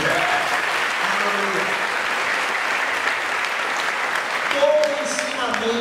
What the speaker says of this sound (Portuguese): Quem está entendendo, aplauda Jesus.